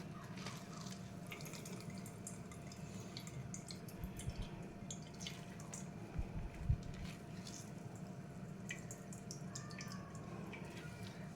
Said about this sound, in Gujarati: તો આવી રીતે દાબીને બધું નીચવી લેવાનું પાણી એનું